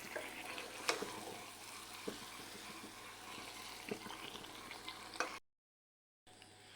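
Sweet mango pickle simmering and being stirred in a pan, a steady soft sizzle with scraping strokes of the spoon, fairly faint and steady, then a brief gap of silence near the end.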